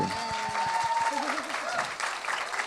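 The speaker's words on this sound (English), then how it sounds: "Applause, I think." Audience applause at a conversation event, moderate clapping alongside other sounds, with a short tonal whistle-like wobble and low thumps early on.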